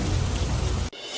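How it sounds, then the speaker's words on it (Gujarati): Heavy rain pours in a city after a hot, humid morning, a dense steady wash of noise that stops abruptly just before the end. "શહેરમાં સવારથી ભારે ગરમી અને ઉકળાટ બાદ વરસાદ."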